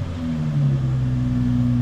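Infiniti VQ engine with a muffler delete, idling low and rough with a steady rumble and slight rise in revs, loud and close throughout.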